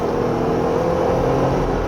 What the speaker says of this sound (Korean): 기본적으로 타이어가 구를 때 내는 소리가 많다